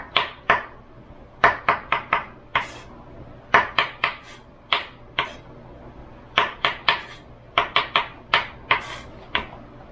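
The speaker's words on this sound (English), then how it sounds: "So I'm going to slice these up" Mushrooms are sliced with a knife on a cutting board, producing a series of sharp, close knocks in quick uneven bursts, some in doubles and triples, with short pauses between groups.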